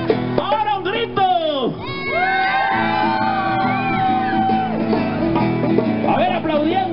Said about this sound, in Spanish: ¡Ahora un grito!